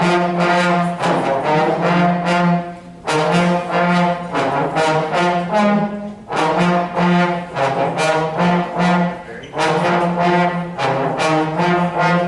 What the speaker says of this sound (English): let's hear trombones play at 34